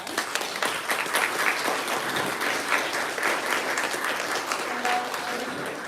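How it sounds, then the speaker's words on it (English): Audience applause at a podcast launch event, sustained clapping from the gathered crowd lasting several seconds, with a faint voice near the end. "Let's give everyone a round of applause."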